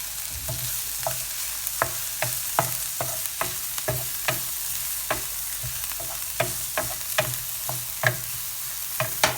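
Garlic sizzles softly in a pan, with a utensil tapping and scraping in a fairly regular rhythm of many clear knocks, close and alone.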